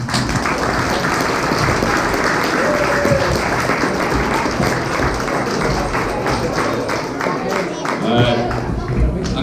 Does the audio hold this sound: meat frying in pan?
no